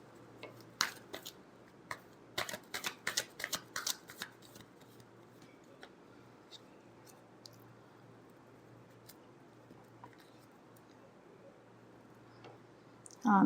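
Cards are shuffled by hand for a weekly Taurus horoscope reading: a quiet run of quick, crisp clicks and riffles over about three seconds, then near silence, with no talking.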